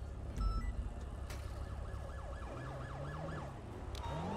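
A police siren in a video game wails, rising and falling in a rapid repeating pattern, moderately loud, over a low engine hum, with a brief thump near the start.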